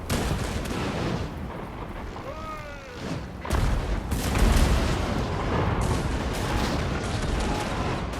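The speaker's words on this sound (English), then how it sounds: "the organ guns are also opening fire on the peasants too" Organ guns firing artillery in a Warhammer battle, heavy booming volleys and rumbling impacts layered over a constant din of combat, with a loud burst midway followed by sustained barrage noise.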